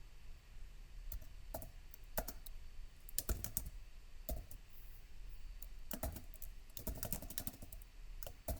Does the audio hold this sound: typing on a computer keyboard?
yes